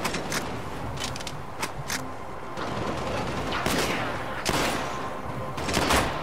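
Machine gun fire in Halo: Spartan Assault: repeated bursts of rapid gunfire crackle over a continuous din of combat, with several sharp, loud volleys spaced through the scene.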